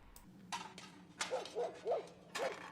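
In a nighttime scene from The Walking Dead, the one-eyed dog gives several faint, high yelps and whimpers in short bursts against quiet background noise.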